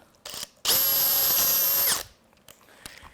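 A loud power drill spins up abruptly, grinds through polycarbonate for just over a second, then stops, with a few clicks and taps afterward.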